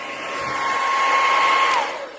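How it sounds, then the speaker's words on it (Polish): A hair dryer switched on and aimed at a frozen loaf of bread to thaw it, a steady loud whirring blow with a sustained tone that spins up, holds and winds down, with no voices. "Kładziecie suszarkę na wprost bochenka. Włączacie suszarkę."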